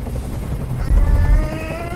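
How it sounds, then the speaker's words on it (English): In the video game Detroit: Become Human, a helicopter hovers nearby with a loud, steady rotor thrum and low rumble. "Tell that helicopter to get out of here."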